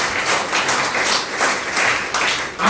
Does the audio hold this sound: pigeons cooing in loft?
no